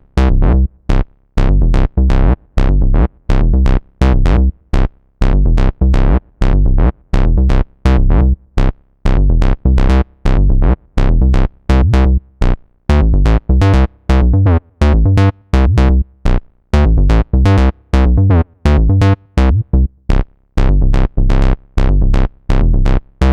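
Keyboard pattern from a Logic Pro 12 session player, loud punchy chords struck in a rapid steady rhythm with brief gaps between phrases, played alone.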